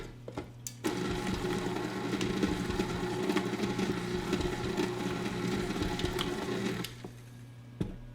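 Date nut square batter whirring in a mixer for several seconds, a steady close motor hum with faint ticking, starting and stopping abruptly, no talk.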